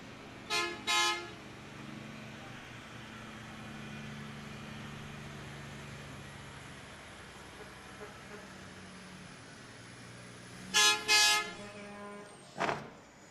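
Truck horns at a Christmas parade in Somersworth, New Hampshire, blast in short bursts, two near the start and a cluster near the end, over a low rumbling engine drone.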